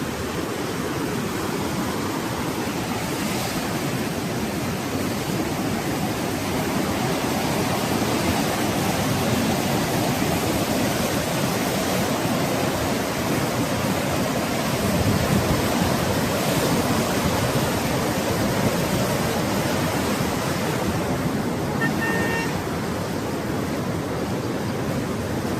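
Strong flow of the Mahanadi river at Kathajodi, with gates opened, roars as a loud, continuous broadband rush of water, steady and unbroken from start to finish.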